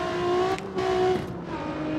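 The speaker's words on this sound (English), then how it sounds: "Oh, listen to it. I think it might be the GTR." A Nissan GT-R revs in the racing game CarX Street, its steady engine tone rising and falling through brief shifts, loud and close with no talk over it.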